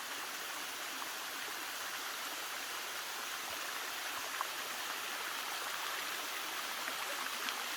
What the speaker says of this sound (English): Are you ready to see Judith climb the waterfall?